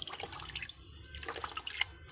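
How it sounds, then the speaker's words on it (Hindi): Plain water splashes and trickles as it is poured over a rabbit bathing in a bucket, making irregular close-up drips and light sloshing with brief quiet gaps. "बस इसको ऐसे ही बाल्टी में सादा पानी से नहा देना है।"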